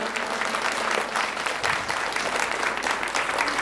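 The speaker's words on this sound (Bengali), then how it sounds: "প্লিজ প্লিজ ওদের জন্য একটা জোরে হাততালি" An audience at a Durga Puja festival inaugural ceremony applauds the drama team, thick continuous clapping from a large crowd that holds steady and loud throughout.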